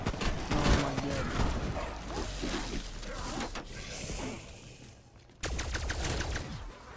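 Rapid automatic gunfire from the RKai gun in Call of Duty Black Ops Cold War Zombies on Firebase, bursts of fast shots loud up front, then a brief drop and another burst, with game noise mixed in.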